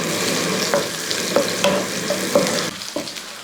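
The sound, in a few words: stirring crushed garlic and cumin frying in oil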